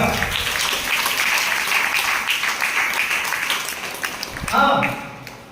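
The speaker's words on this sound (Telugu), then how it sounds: "చప్పట్లు కొట్టండి గట్టిగా" Church congregation at a Good Friday service clapping loudly together in a dense, steady roar of applause, with a voice rising briefly near the end.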